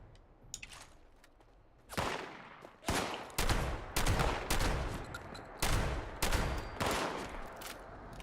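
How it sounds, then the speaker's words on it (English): A combat shotgun fires in Fallout 76: a string of loud, sharp blasts, roughly eight shots spaced irregularly about half a second to a second apart, each with a short booming tail, after a few faint clicks. "let's go to the combat shotgun."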